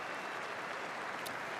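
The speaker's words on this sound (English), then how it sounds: "the round of applause for Bailey Banfield" Stadium crowd applauding at an Australian rules football match between Richmond and Fremantle as a player leaves the field, a steady, dense wash of clapping and crowd noise, fairly faint and distant, with no talk over it.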